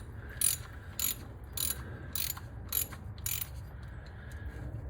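Ratchet wrench working loose the water pump bolts on a 2003–2008 Dodge Ram 4.7L engine, sounding as about six short, close clicking bursts in a steady rhythm over a low background hum.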